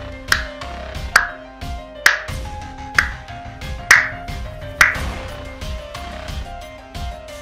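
Slow, evenly spaced single claps ring out roughly once a second, loud and sharp with a brief ringing tail. No one speaks.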